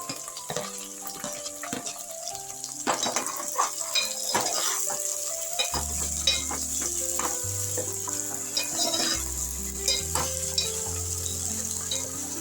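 Okra, tomatoes and onion fry in a pan with a constant crackling sizzle, punctuated by frequent scrapes and clinks of a spoon stirring against the metal, while low tonal music hums in the background.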